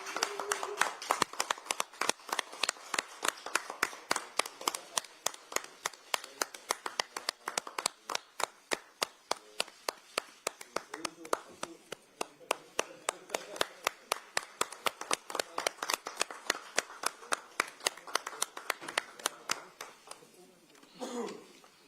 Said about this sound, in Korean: 하정우 전 청와대 AI 미래기획 수석 비서관, 전은수 전 청와대 대변인을 큰 박수로 환영해 주시기 바랍니다